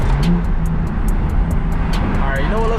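Loud, continuous engine and exhaust rumble from inside a BMW M4 (F82) with windows down, the pitch shifting and rising briefly near the end during a downshift.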